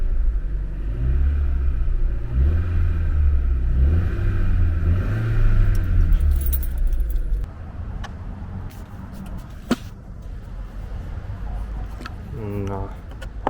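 A Vauxhall Insignia 1.4T engine fitted with a Pipercross air filter revs to about 2,000 rpm, a close rising and falling drone that settles into a lower idle rumble, with a few clicks near the end.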